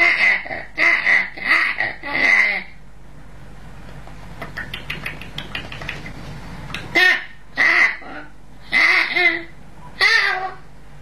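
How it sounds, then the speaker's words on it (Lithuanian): A gander gabbles in quick, excited bursts of honking chatter, close and loud, pausing midway while faint rattling and rustling fill the gap before the rapid cries resume. "Žąsinas ėmė kažką greitai ir karštai sakyti, bet visiškai nesuprantamai."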